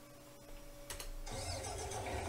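An engine cranks and catches in a farming simulator set in Thuringia, a short starter burst followed by a steady, fairly loud mid-pitched idle with no talking.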